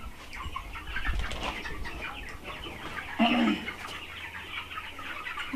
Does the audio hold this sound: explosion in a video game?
no